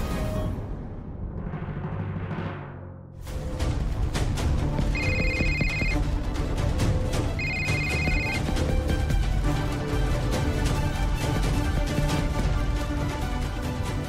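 A telephone rings unanswered in repeated ringtone bursts over a loud, busy background of music and noise.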